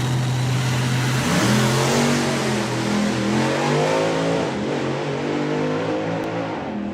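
A drag racing car at the NSRA Hot Drags launches in high gear, its engine note climbing and stepping through rising pitch sweeps. The sound is a loud, sustained roar that stays strong across the whole run.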